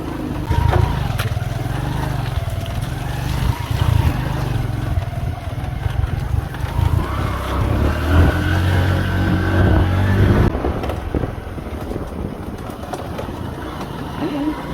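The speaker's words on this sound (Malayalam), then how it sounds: "ഇവിടെ ബൈക്കിന് ട്രാക്ക് ഉണ്ട് കേട്ടോ. ആ ട്രാക്ക് വഴിയാണ് നമ്മൾ പോകുന്നത്" A motorbike travels a rough dirt track in rural Liberia. The engine drones with shifting pitch as the rider works over uneven ground, a voice talking over it at times.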